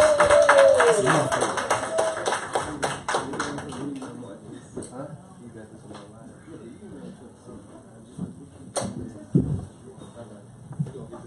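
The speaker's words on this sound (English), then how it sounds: "join me in giving him a round of applause" A round of applause from an audience at a community meeting, dense clapping that starts loud and thins out over a few seconds, followed by scattered taps and talking.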